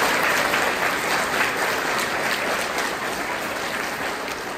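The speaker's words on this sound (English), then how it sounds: "So let's give them a round of applause." A school audience claps for teachers and administrators at a Veterans Day program, a dense, sustained round of applause that fills the room and tapers slightly toward the end.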